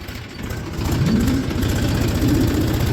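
A tractor pulling a sugarcane trolley at night in third gear runs with a loud, steady low diesel throb and a rhythmic chug that strains slightly up the slope, close and alone.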